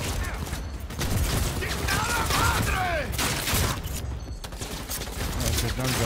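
Dense bursts of gunfire in the video game Cyberpunk 2077, a heavy-recoil gun firing in rapid clusters amid mechanical clatter and game music, loud and continuous over several seconds.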